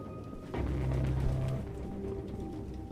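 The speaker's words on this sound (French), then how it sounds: "Aucun humain ne pourrait vivre avec autant de pigeons." In the game Detroit Become Human, a pigeon gives one low, soft coo lasting about a second against a quiet indoor room tone.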